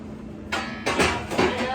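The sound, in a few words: cooking spray sprayed onto a baking sheet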